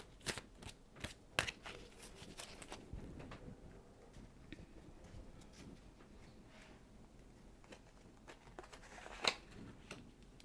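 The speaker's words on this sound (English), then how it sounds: "I just want to make sure I shuffle everything." Tarot cards shuffled during a love reading: soft, close card flicks and riffling taps in an irregular stream, quiet overall with a few sharper snaps, no talking.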